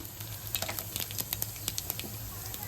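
Cumin seeds sizzle in hot oil in a pan, a faint crackle of quick irregular pops over a low steady hiss, close and quiet with no talking.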